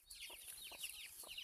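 Hen with a brood of fourteen chicks on a Tamil farm, three soft low clucks evenly spaced beneath a constant chorus of high chick peeps, quiet and close with no talking.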